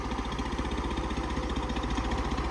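A New Holland 3630 tractor engine runs steadily while pulling a 13-tine field implement with the lever fully down, a dense rough pulsing rumble close by, loud and unbroken, with no talking.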